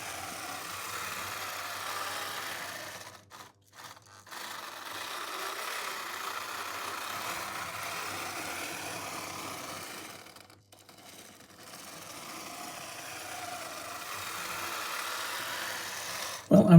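The small electric motor of a vintage Piko model railway locomotive hums steadily on a 12-volt DC test track, its whirring twice dropping out briefly before resuming.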